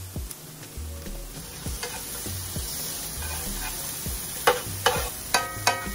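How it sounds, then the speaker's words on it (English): Vegetables sizzle in a pan with caramelized onion butter, a steady, crackling fry with occasional soft stirring scrapes and sharp clicks that grow more frequent toward the end. "Oh, we got the vegetables sizzling on there."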